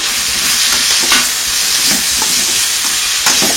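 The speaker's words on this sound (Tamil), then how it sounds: "கரம் மசாலா தூள், மிளகுத்தூள் சேர்த்து ஒரு 2 நிமிஷம் பக்கம் நல்லா வதக்கி வேக வச்சா நல்லா வெந்துடும்" Capsicum sautéing in a pan with garam masala and pepper powder, a loud, close, continuous sizzle and hiss with occasional stirring swells, no talking.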